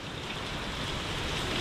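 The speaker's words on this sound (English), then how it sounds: "It is raining a lot." Heavy rain pours down at a marina, a dense, loud and steady broadband hiss that fills the whole moment with no break and no voices over it.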